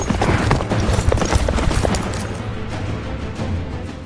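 Horse hooves clip-clop in a fast, dense patter from a film chase on horseback, loud and close at first, then thinning and fading slightly toward the end, with no voices.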